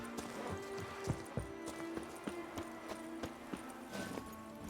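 Roach the horse's hooves clip-clopping at a steady walking rhythm in The Witcher 3, soft and moderately close over a low ambient hum, no talking.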